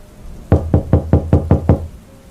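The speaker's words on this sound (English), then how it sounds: "Chase hesitated for a moment before knocking softly" Soft knocking on a red dog kennel door: seven evenly spaced, close raps in a quick steady rhythm, heard on their own with no voices.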